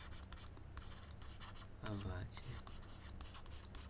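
A pen scratches on paper in short strokes while notes are written down during a maths lesson on prime factors, faint and close, with a voice speaking softly at times.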